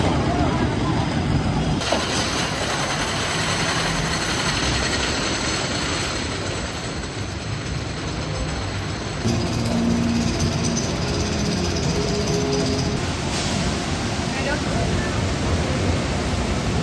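The Invader roller coaster at Busch Gardens Williamsburg roars along its track, a loud continuous rattling rumble with wind noise throughout, and riders' voices are heard in between.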